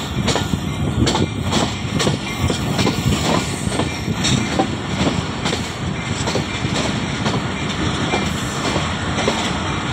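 The Jaffar Express passenger train rolls through Gujar Khan railway station, loud and close, with a steady rumble and rhythmic clickety-clack of wheels over rail joints, plus brief metallic squeals, and no talking.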